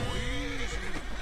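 A wild grey horse neighs in Red Dead Redemption 2 while being tamed, one loud, close, drawn-out whinny with a wavering pitch over a rumbling game background.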